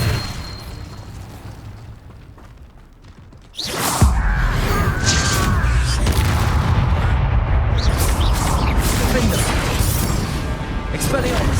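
An Incendio fire spell cast in Hogwarts Legacy: after a quieter stretch, a sudden loud burst erupts and gives way to a sustained roar of crackling, booming combat effects.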